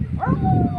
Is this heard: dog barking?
yes